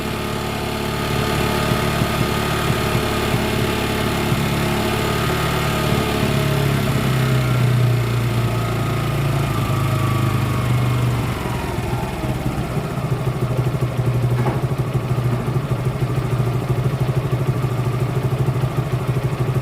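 Motorcycle engine idling steadily up close with a ticking, knocking clatter, as the revs are lowered, loud and continuous with no speech heard.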